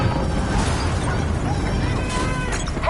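Multiple explosions go off across a facility in Call of Duty: Black Ops 3, with dense booming and rumbling blasts, a few sharper bursts, and faint speech underneath.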